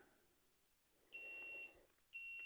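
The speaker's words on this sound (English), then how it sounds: "it gives you a warning and a beep letting you know that this is no longer level" Two high, piercing electronic beeps sound from a 3D laser level knocked off level outdoors, each about half a second long, separated by a short pause over faint background hiss.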